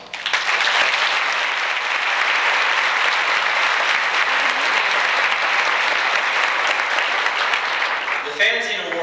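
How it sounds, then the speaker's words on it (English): Sustained, dense applause fills a convention banquet hall in honour of fan writers, loud and steady for several seconds before tapering off as a voice begins speaking. "all deserve a round of applause."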